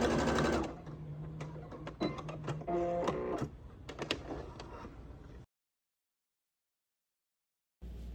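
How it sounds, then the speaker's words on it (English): A sewing machine understitches the facing of a wrap dress in close, uneven bursts of rapid stitching with clicks, then falls silent for a couple of seconds before a brief restart. "with understitching, you want to make sure that you're stitching on top of the facing with the seam facing towards the facing"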